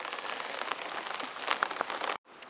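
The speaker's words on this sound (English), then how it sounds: "It's raining like hell" Heavy rain patters densely and continuously on surfaces close by in June, a loud steady wash with a few sharper drips, breaking off briefly just before the end.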